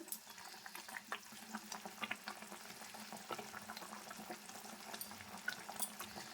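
Jaggery syrup for a mango pickle boils in a pan over full heat, a busy stream of soft bubbling pops and crackles at close range, with no speech.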